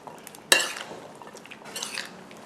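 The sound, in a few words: spoon mixing tomato salad with dressing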